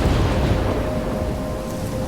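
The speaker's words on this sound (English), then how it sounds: "I'm trapped in a storm?" Thunderstorm in the video game Life Is Strange: a steady, loud roar of heavy rain with a low rumble of thunder underneath, continuous and enveloping with no talk over it.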